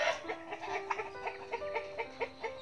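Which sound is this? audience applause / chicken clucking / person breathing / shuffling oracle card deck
chicken clucking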